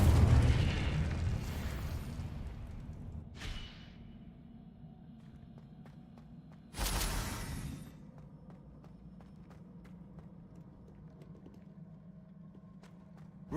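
In the Hogwarts Legacy video game, a fire spell bursts with a loud whooshing blast that fades, then a second fiery whoosh follows midway over a steady low rumble.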